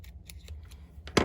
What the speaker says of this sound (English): we are going to grab our scissors, and we're going to just trim off a couple of these edge pieces